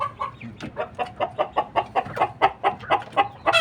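A young Bangkok chicken about three months old clucks in a fast, even series of short throaty calls, close and alone.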